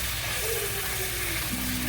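Chuck roast beef frying in butter in a pan, a steady, close, continuous sizzle with a faint tonal hiss running underneath.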